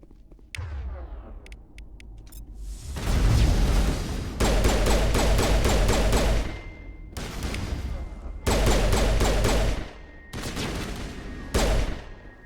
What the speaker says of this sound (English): keep shooting at the cover